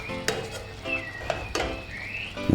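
Spoon stirring chicken okra stew in a pot on the stove, a few distinct scraping strokes against the pot with a soft simmer and sizzle underneath, close and fairly quiet.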